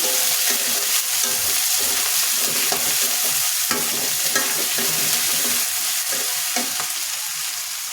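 Chopped garlic sizzles steadily in hot oil in a pan for beef and yardlong bean stir-fry, with frequent scraping and clacking of a utensil stirring throughout, close and continuous, no talk.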